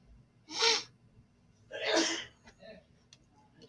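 Two sharp sneezes burst out close by, the second slightly longer, followed by a short breathy exhale and quiet room tone.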